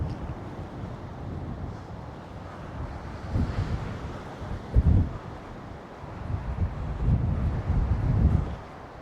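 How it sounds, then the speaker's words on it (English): Strong wind buffets the microphone at a campsite in City of Rocks, a continuous low roar with gusty surges rising and falling throughout. "yeah, it's windy"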